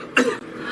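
A single short cough from a person, loud and close, bursting out briefly and then fading into quiet room tone.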